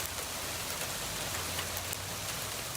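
Graupel, or soft hail, pelts down during a windy storm in San Diego County. It makes a steady, dense hiss and patter of pellets striking surfaces, close and even throughout, with no voices.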